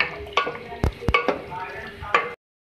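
Chicken stew with yogurt stirred in a pan, soft sizzling under scraping and a few sharp spoon knocks against the metal, irregular and close, ending abruptly in silence.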